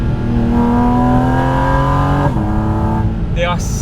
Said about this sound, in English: The downshifts in the GT4 RS are like